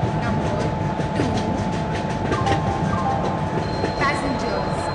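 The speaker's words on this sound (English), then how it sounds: "Train number 12655 Garib Rath Superfast Express is arriving at platform number 2." An express train pulling into an Indian railway platform, a steady rumble with rail clatter and a faint squeal throughout, under a muffled station announcement voice.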